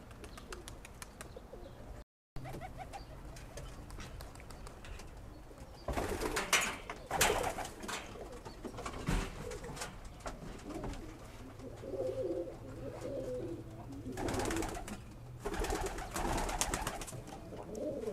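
Flying competition tippler pigeons coo and rustle steadily at close range in a small loft, with soft wing flutters and shuffling in the enclosed space.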